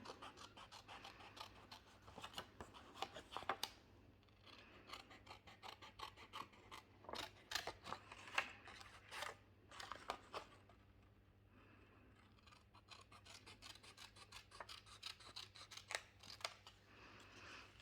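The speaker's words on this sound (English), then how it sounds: "So just cut inside the printed line." Scissors cut through card along a printed line in a quiet room, giving soft repeated snips and scratchy rubbing, denser in the middle with a brief pause before the cutting resumes.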